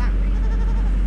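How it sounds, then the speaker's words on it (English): Goats bleating in a farm setting while hay is dropped, a few nearby bleats mixed into loud, steady low rumbling noise. "Hey, little goats. You want to get squished?"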